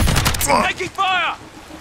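A quick rattling burst of rapid gunfire in a Modern Warfare match, loud and close, followed by brief tonal game sounds and trailing off to quiet.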